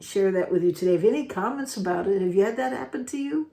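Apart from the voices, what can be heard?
No everyday noise stands out behind the speech.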